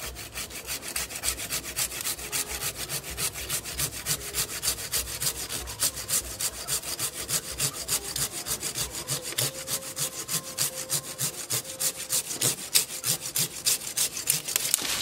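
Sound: Japanese hand saw cutting a longan branch

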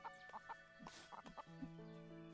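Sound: chicken clucking in the video game Everdream Valley

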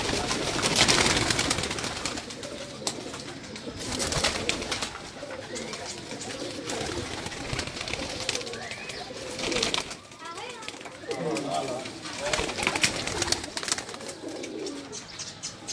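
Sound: pigeons cooing on a rooftop

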